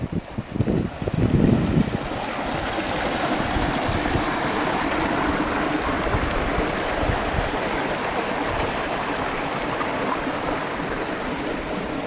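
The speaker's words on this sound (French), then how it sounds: "Bon, on est à côté d'un ruisseau qui est là." A small stream runs beside a hikers' campsite, giving a continuous, even rushing of water with a few soft bumps and knocks near the start.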